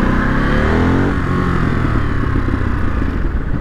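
A 2022 Ducati Monster motorcycle engine burbles loudly and up close, rising in pitch early before settling into a steady, rumbling drone under throttle, with no talking.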